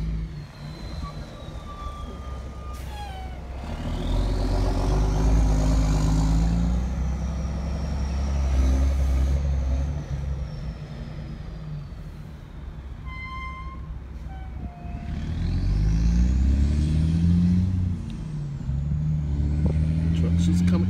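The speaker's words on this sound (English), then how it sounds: "Trucks just keep coming in, and they're digging it out." Heavy trucks rumble and pass close by while hauling sand from the Jockey Ridge dune in Kill Devil Hills, North Carolina, engines swelling loud twice with a hiss of brakes, under steady talking.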